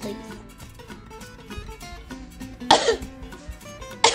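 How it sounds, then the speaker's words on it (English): A single cough during a medical exam, a short sharp burst near the end of the clip over soft background music. "Cough, please."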